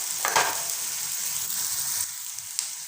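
Onions fry in a pan with a steady, close sizzle and light crackle, broken by faint clinks of stirring.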